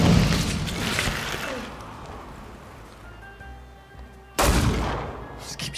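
Gunshots in The Thaumaturge duel: a burst of loud shots opens, fading into a quieter tonal stretch before another sharp, heavy blast of fire near the end.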